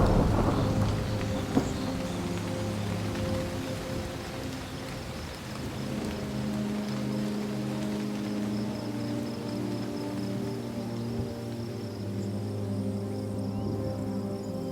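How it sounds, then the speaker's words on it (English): Steady heavy rain pours over open savanna plains in East Africa's Masai Mara during a seasonal thunderstorm, a low rumbling roll of thunder at the start fading into a continuous dense wash of rainfall. "seasonal storms drape huge curtains of rain across the plains"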